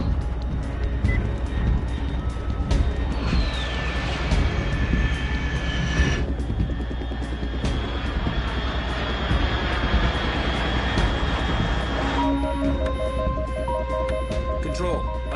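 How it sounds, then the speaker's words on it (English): An aircraft flies in the Metal Gear Solid 3: Snake Eater video game, a constant engine drone under game sound effects and electronic tones, with a sweeping pitch glide early on and beeping signals near the end. "Unidentified aircraft detected."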